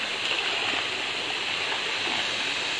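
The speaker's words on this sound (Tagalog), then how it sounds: "itong sapa na ito, ilog na maliit" A small, clean creek flows steadily, a continuous close rush and gurgle of water with no voices.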